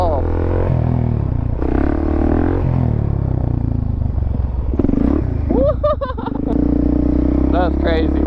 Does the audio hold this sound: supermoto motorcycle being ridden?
yes